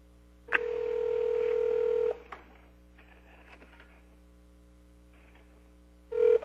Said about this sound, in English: We'll get Dr. Jones on the phone.